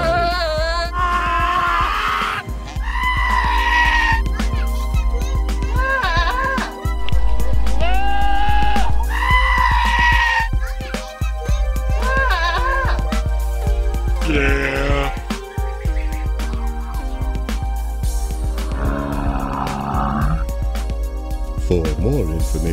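A domesticated goat bleats again and again in drawn-out, wavering cries, loud and close, with steady pauses between calls and a constant low hum underneath.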